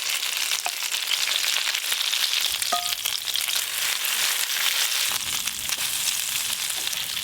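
An eggplant and egg fry together in a pan with a loud, dense, continuous sizzle that holds steady up close, with faint scraping clicks and no talking.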